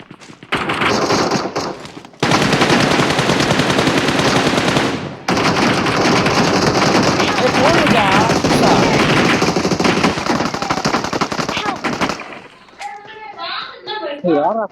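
Gunfire in the mobile battle-royale game BGMI, with loud, dense bursts of rapid automatic fire that run almost continuously and pause briefly, followed by excited young voices shouting near the end.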